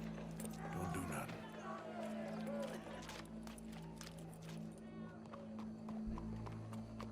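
Horse hooves in the video game Red Dead Redemption 2, a steady clip-clop of hoofbeats mixed with a whinny, under low game music and characters talking.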